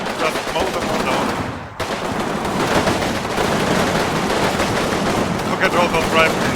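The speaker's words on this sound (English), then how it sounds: "Keep firing, keep the fire up, just mow them all down." Sustained gunfire in the World War II strategy video game Combat Mission Rome to Victory forms a loud, continuous crackle of rapid shots with one brief gap, heavy and dense throughout.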